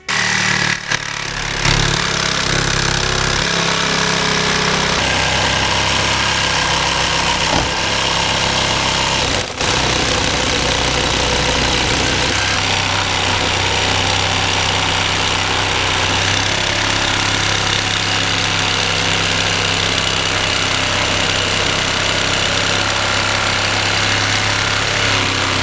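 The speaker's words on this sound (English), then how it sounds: "for this type of metal, I like to use my thin metal blade" Power saw with a thin metal blade cutting metal while fabricating a 1/14 scale lowboy trailer, a loud continuous harsh buzzing grind that runs steadily throughout with slight shifts in pitch.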